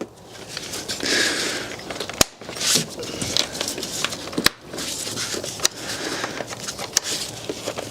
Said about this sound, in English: And just reinstall all those clips.